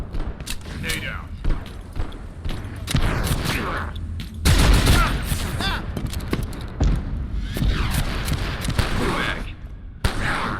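A grenade explosion and bursts of gunfire in a video game, heavy thumps and scattered shots mixed with players talking over them.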